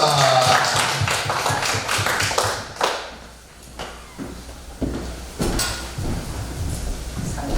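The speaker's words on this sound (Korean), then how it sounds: "우리 박수로, 큰 박수로 하나님께 영광 올립니다" Congregation clapping at a church worship service, starting as a loud dense burst, then thinning into scattered, separate claps and taps with short pauses between them.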